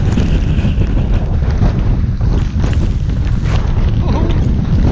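Strong wind roars and buffets the microphone on a winter hike along the West Highland Way in sleet and snow, a loud, continuous low rumble with no clear voices.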